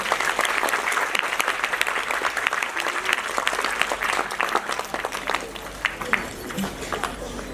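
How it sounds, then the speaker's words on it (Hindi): Sustained, dense applause from a large audience welcoming guests at the Noble Foundation's annual function, steady clapping filling the full stretch at moderate loudness. "कृपया आप सब बहुत बहुत तालियों के साथ इनका स्वागत करिए।"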